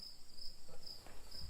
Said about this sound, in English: Maybe if the cricket picks up.